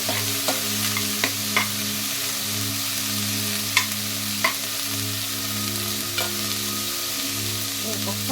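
Half-boiled snake gourd pieces are stirred in hot oil, a constant close sizzle with a low steady hum beneath and scattered light clicks of the spoon against the pan.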